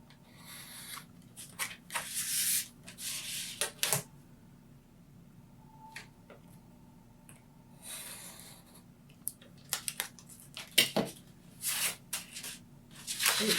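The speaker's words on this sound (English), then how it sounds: "So I'll just cut that little square out." Scissors cutting a small square out of a paper tote bag pattern, with bursts of crisp snipping and paper rustling separated by quiet pauses, close by.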